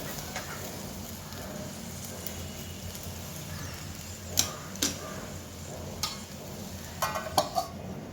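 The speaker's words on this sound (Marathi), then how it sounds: "सगळं छान हलवून आपण झाकण ठेवू थोड्या वेळ" A spoon clinks and scrapes against a pan while okra sabzi is stirred, a few light taps scattered over a steady low background hiss.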